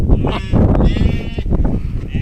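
Goats bleat loudly and close by in the Omani desert, several short overlapping calls over a rough, rustling background.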